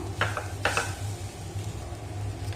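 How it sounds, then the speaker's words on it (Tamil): Bananas sauté in a pan with a quiet sizzle, broken by a few sharp spoon-against-pan scrapes and stirring clinks early on, then a softer steady frying hiss. "இப்போ ஒரு நிமிஷம் வதங்கட்டும்"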